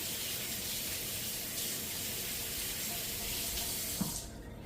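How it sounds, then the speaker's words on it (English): A kitchen sink tap runs steadily as hands are washed during pot roast preparation, a close, continuous rush of water that cuts off abruptly near the end. "Wash my hands again."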